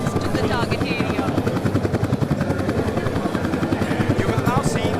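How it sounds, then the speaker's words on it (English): Military helicopters descend toward the grandstand at an air show, rotor blades chopping in a steady rapid pulse, loud and close, with a commentator speaking over the noise. "While closing in towards the grandstand, the helicopters are also losing height and descending to 200 feet while flying at 185 km per hour."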